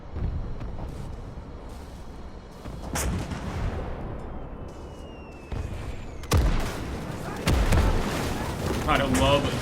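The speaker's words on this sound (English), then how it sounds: "Gotta love those explosions. There's the German 88 gun firing off" German 88 gun firing with heavy booming explosions in the WW2 game Gates of Hell, several loud blasts and rumbling impacts spread across the scene, dense and close.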